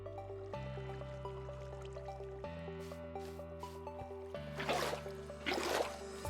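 Water poured from a bucket in Minecraft gives two short, close splashy gushes over steady background music.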